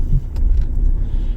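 Jaguar cars, XJCs among them, drive into town in a convoy of ten at a time for a national rally, with a low, steady engine rumble close by and brief swells as cars pass.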